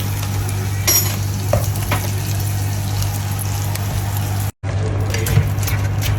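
Food frying in a pan during late-night home cooking, a loud, close, continuous sizzle with stirring and scraping throughout, no one talking.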